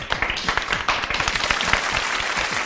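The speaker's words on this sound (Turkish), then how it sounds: "Şimdi Yasin'i bir alkışlayabilir miyiz arkadaşlar?" An audience breaks into sustained applause for a boy named Yasin, many hands clapping densely and steadily at close range with no talk over it.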